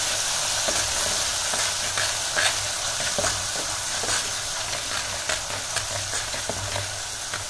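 Plum chutney with dates and fennel seed mixture is stirred in a pan, giving a steady sizzle with frequent soft scraping and tapping of a utensil, heard close and alone.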